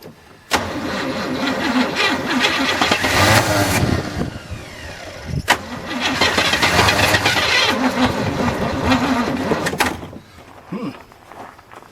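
A 1981 square body truck that sat in a field for 25 years, on a weak battery, cranks loudly in two long bursts separated by a sharp click and short pause, the engine churning and catching unevenly.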